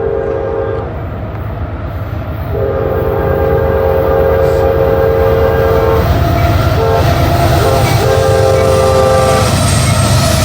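Freight trains on parallel tracks, a CSX train and an NX train, roll past outdoors with a steady heavy rumble, long sustained horn blasts and clattering wheels, loud and close throughout.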